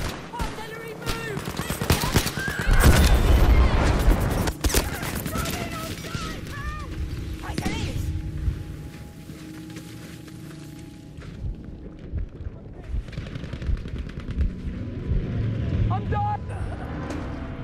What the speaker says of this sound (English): Requesting a JB-2 airstrike at this position.